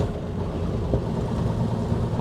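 A 1923 Packard Six sedan cruising in third gear gives a low, steady, smooth rumble, with little gear whine and no talking over it.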